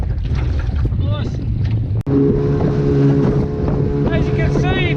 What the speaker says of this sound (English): As you can see, it's pretty windy today.